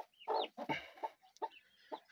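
A turkey hen beside her four newly hatched chicks makes a few short clucking and peeping calls, close and distinct, separated by brief pauses.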